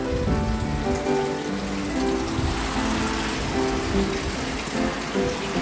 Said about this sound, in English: Started raining on us when we were on the bike.